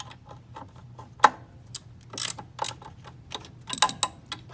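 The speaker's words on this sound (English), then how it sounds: "we're using a ratchet with a 10mm socket" Ratchet with a 10mm socket being worked on a 2011 Jeep Wrangler engine, giving rapid clicking pawl ticks in irregular bursts, close and crisp, with no talking.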